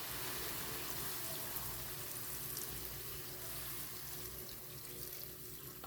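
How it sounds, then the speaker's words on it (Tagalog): Water pours steadily into a pan of sautéed dish, a continuous close splashing rush that runs unbroken throughout. "lagyan na natin yung tubig"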